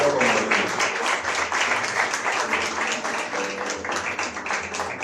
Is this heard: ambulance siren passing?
no